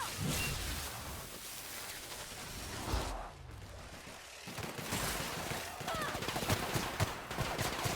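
Gunfire rattles in The Outer Worlds during a video game fight: dense bursts of shots and impacts with whooshes, loud and continuous throughout, over a voice talking.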